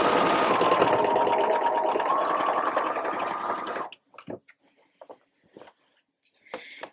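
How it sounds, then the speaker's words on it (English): A sewing machine stitches a second reinforcing line on a pair of jeans, running in a loud, continuous rapid hum for about four seconds before stopping, followed by a few faint clicks and handling sounds. "I would do a second line of stitching that is right next to that, almost on it."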